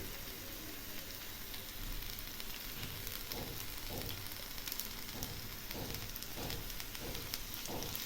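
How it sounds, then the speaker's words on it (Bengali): Fish paturi, parcels of small puti fish, frying in oil in a pan with a faint, continuous crackling sizzle, a few soft bursts of spattering through the middle and end. "এই যে দেখুন, এইরকমভাবে ভাজা হয়েছে। সবগুলো উল্টে দিয়েছি। এখন আমি আরেকটু তেল দিচ্ছি।"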